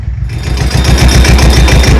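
A tractor engine runs close and loud while a food plot is planted, a rhythmic low thumping chug pulsing steadily throughout, with no one speaking.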